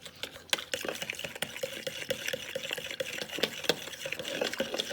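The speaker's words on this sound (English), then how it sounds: "Then with the fork, you whisk it and you mix it together." A fork whisks a yeast mixture for pizza dough in a bowl, giving a steady run of quick scraping and tapping strokes with faint liquid swishing, close up and with no talk.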